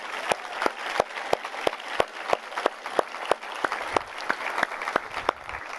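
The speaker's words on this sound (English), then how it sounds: "Let's give those kids a round of applause again" Convocation audience applauds the kids at a school opening ceremony, with a few sharp, evenly spaced claps standing out close by over a broad crowd of clapping at moderate volume.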